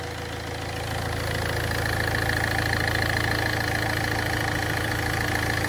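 A Ford Fiesta engine idles steadily at close range, a continuous low hum and rumble with a faint ticking texture, settling slightly louder after the first second and holding even throughout.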